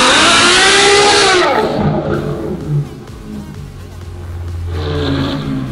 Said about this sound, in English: we'll just do a regular burnout